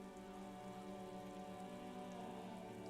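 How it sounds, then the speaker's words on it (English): Steady rain falling over water in the video game Disco Elysium, a continuous soft patter under a low humming tone, quiet and unbroken. "Sheets of rain over the water"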